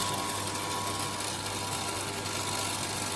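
A model 811 sesame seed oil press runs with a constant mechanical drone and a low steady hum, an even, unchanging machine noise heard close with no talk.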